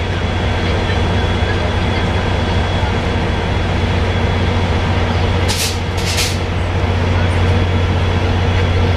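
VIA Rail's Canadian passenger train near Jasper, Alberta, hauled by two 3,000-horsepower F40 diesel locomotives, gives a loud, constant low rumble and hum heard from on board, with a brief whooshing burst midway.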